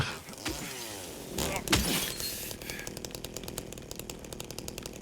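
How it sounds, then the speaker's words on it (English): A chainsaw in the video game Silent Hill 2 roars and revs loudly with a harsh buzzing whine, steady then sputtering into rapid pulsing, with brief crashing noises early on. "you're gonna be hearing this chainsaw through most of the playthrough"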